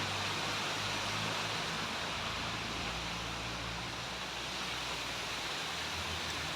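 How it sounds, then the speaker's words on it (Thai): A waterfall beside a temple in Phu Sing district, Sisaket, Thailand, gives a steady, dense rush of falling water that stays even and fairly close throughout, with no voices over it. "เดี๋ยวเราจะถ่ายรูปกับน้ำตกกันนะครับ"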